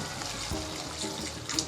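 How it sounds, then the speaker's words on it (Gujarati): Water poured into a cooking pan of onion and gram-flour curry, a short, close trickling splash lasting under two seconds, ending in a small knock. "થોડું પાણી એડ કરી દઈશું."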